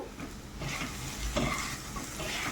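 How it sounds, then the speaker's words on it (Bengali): Chicken seasoned with chili flakes fries in a pan while being stirred, an oil-free diet recipe, giving a steady close sizzle with scraping stir strokes and no talk. "সব কিছু একসাথে করে একটু ভালো করে মিশিয়ে নিচ্ছি। মিশিয়ে আর একটু ভেজে নিচ্ছি।"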